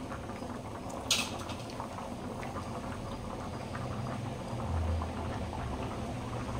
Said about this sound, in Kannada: ಈಗ ಮಿಡಲಲ್ಲೇ ಚೆನ್ನಾಗಿ ಕುದೀತಾ ಇದೆಲ್ಲ